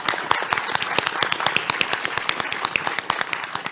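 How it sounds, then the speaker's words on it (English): Sparse, distinct hand claps from a small audience at a live podcast recording, individual claps ringing out clearly and fairly close with little crowd noise between them. "Round of applause."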